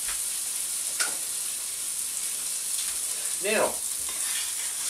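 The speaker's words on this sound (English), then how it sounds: "the idea now is to let it simmer for a while" Chicken and chorizo in a spicy sauce simmer in a pan with a soft, steady sizzle and faint bubbling, close by and quiet, with a brief clink and a short word spoken near the start.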